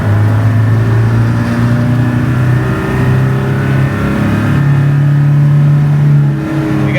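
A Land Rover Defender engine drones steadily from inside the cabin while accelerating on a road, a loud sustained hum with rising and shifting pitch as it builds boost through the gears.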